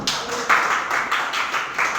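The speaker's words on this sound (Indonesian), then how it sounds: "Kita beri tepuk tangan untuk kelompok 1." A classroom group claps steadily after a group presentation, a brief round of applause with rapid overlapping hand claps and no talking.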